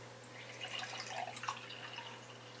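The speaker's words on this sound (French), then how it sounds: "Je vais juste me faire, hop, une petite tasse de café dans ma tasse d'Irlande." Coffee brewed the day before is poured into a small mug from Ireland, a soft close trickle and drip of liquid that stays quiet and steady for a couple of seconds, with no talking.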